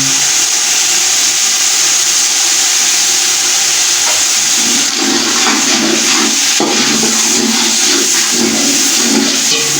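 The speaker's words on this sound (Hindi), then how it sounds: "एक मिनट तक इसको अच्छी तरह से हम भूनेंगे।" Beef pulao in a large pot fries with biryani masala and salt in a loud, continuous sizzle with steamy hiss, and intermittent stirring scrapes rise midway through, with no voices.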